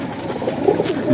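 A Teddy pigeon kept by a pigeon fancier gives a short, close, low throaty coo, rising slightly toward the end, with no voices over it.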